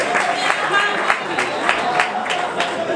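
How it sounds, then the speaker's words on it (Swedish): Big audience applause at a Swedish kickoff gathering as guests come up on stage: a dense, steady wash of many hands clapping, loud and sustained for the whole stretch with no pause. "När de liksom kommer upp här på scenen så vill jag se jätteapplåd nu."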